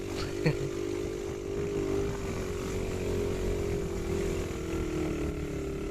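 A motorcycle taxi (ojek) climbing uphill toward Mount Prau, its engine droning steadily and close throughout, with a brief knock early on.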